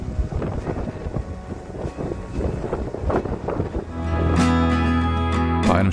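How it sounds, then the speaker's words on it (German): Strong wind and waves off the west side of Hiddensee aboard a small Varianta 65 sailboat, gusty wind noise buffeting the microphone with splashing water, steady and loud throughout. "Auf der Westseite von Hiddensee waren ordentlich Wind und Wellen."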